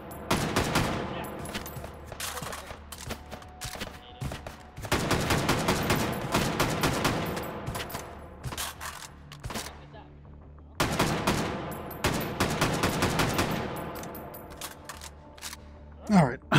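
Gunshots in the VR shooter Hot Dogs, Horseshoes & Hand Grenades, loud clusters of sharp rapid shots in three long bursts separated by quieter pauses, with one last crack at the end.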